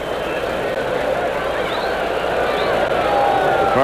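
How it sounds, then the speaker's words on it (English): Cardinals baseball crowd murmuring quietly in a St. Louis stadium during a 1993 game against the Mets, a steady babble of distant voices with a play-by-play announcer talking over it. "The Cardinal crowd very quiet right now."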